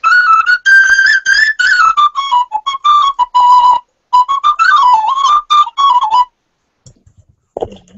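A person whistles a lively melody at close range in bursts and phrases, with brief pauses, then a faint thump after it ends.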